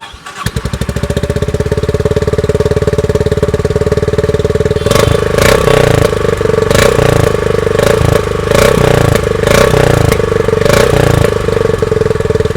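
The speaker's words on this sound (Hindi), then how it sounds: "एक बार ना इसमें इसका आपका एग्जॉस्ट नोट सुनाता हूँ, कैसी क्या साउंड आती है।" Honda CB350 DLX motorcycle, 2024 model, starting up and idling with a steady, loud thumping exhaust note, then several sharp revs blipping over the idle, heard up close with no talk.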